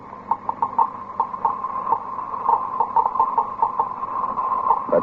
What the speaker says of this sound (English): That sound is being made by a Geiger counter, a device for detecting radioactivity.